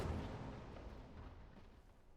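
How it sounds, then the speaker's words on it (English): A turret being destroyed in League of Legends produces a low, rumbling boom that starts loud and slowly fades into a muffled crumbling roar, continuous and without talk. "Your turret has been destroyed."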